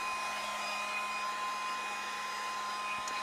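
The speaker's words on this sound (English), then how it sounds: "this is a heat gun, but it's got a cool setting, and there's my hand right in it. It's cool air." A heat gun on its cool setting blows air in a constant, close, whooshing drone with a steady motor whine, and no voices are heard.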